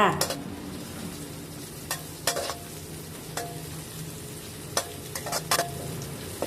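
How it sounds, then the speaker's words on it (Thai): Garlic fries in oil in a pan, crisping as a topping for okra stir-fried in oyster sauce: a continuous close sizzle punctuated by sharp, irregular clacks of a utensil against the pan, with no speech. "จากนั้นก็ใส่กระเทียมลงไปเจียวค่ะ"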